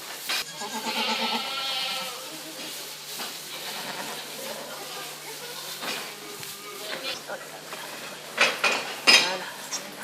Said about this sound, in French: On va voir les chèvres, oui.